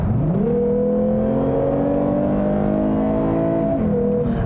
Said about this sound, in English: I floored it there from a stop, and it actually was pretty good at downshifting, and it sounds good, although the noise is definitely synthesized